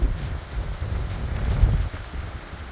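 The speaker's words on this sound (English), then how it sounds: "You can see this wind is blowing" Strong wind buffets a Gazelle G6 tent on open South Dakota ground, a steady low roar with gusty surges and faint flapping, loud and continuous throughout without any voices.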